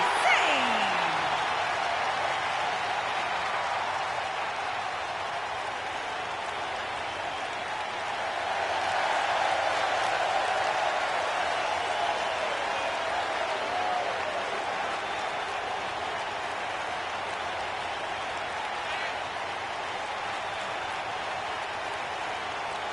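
A wrestling arena crowd cheers and applauds continuously before a Falls Count Anywhere match, a dense roar of clapping and shouting that swells midway, with commentators talking faintly over it.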